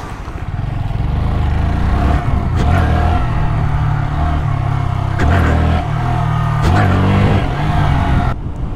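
A quiet stock 2020 Honda Grom motorcycle engine hums steadily while riding, with a low, even drone that rises and falls slightly through gear changes, mixed with wind rush.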